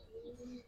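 A hammer pigeon gives a short, soft coo, a low tonal murmur held for under a second, fairly faint and close with no talk over it.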